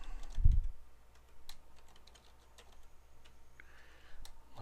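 Typing an email address and password on a computer keyboard, a run of light, quiet key clicks with a soft thump near the start and low background hum.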